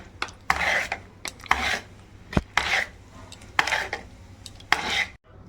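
A pot of khichuri having purnam filling stirred in by hand, heard as repeated close scraping and clinking strokes of a spoon against the metal pot in a steady rhythm, with no talking.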